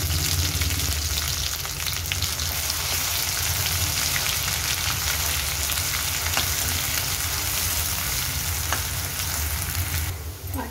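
Ground masala paste frying in hot oil for a Marathi-style crab curry, a steady close sizzle and crackle with occasional stirring scrapes, continuous throughout with no talk.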